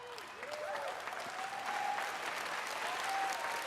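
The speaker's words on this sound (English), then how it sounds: "Gotta plan these applause breaks." A large crowd claps at Bethesda's E3 press conference, heard as a soft, even wash of applause from a distance, with a few faint whistles over it.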